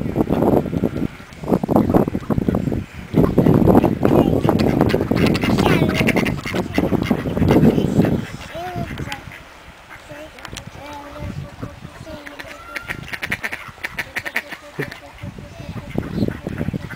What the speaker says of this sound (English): Play with the ducks.